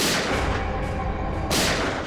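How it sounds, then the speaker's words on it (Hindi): Heavy gunfire, loud and dense, comes as a continuous barrage of blasts with bursts of stronger impact, and no talk is heard. "ये गोलियों की आवाज।"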